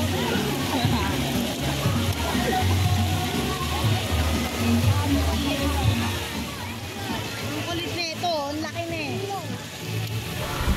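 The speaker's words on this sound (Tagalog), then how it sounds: "may bumabagsak na tubig" Water falls and splashes under a bridge at a swimming pool, a steady loud rushing wash that runs throughout with people talking and calling over it nearby.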